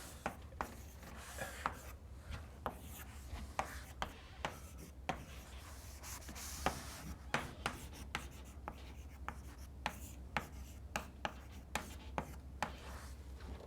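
Chalk or marker taps and strokes on a board during a university lecture, a steady run of sharp, close clicks and scratches with faint room hum beneath.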